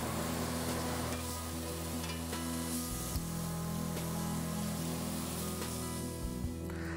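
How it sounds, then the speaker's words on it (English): Seasoned vegetables sizzle on a grill with a fan running: a constant loud hiss and crackle over a steady humming drone, with a couple of brief shifts in the hum. "just lay these down on your grill"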